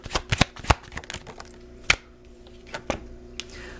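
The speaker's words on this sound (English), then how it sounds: "Let me grab one more card." Tarot cards shuffled by hand in a string of quick riffling rustles and soft slaps, with one sharper snap as a card is pulled, close and alone without talk.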